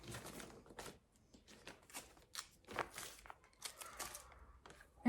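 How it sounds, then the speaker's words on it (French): Sharp bursts of tearing and crinkling as small pieces of tape are peeled off and stiff embroidery stabilizer is ripped away, in quick irregular pulses with quiet gaps. "On va pouvoir enlever tous les petits scotch, le stabilisateur."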